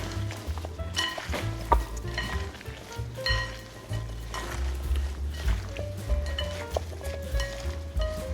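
A shrimp fajita mixture with pepper and lime juice is stirred in a pan, giving a steady close sizzle with repeated scraping and light clinks of a utensil against the pan.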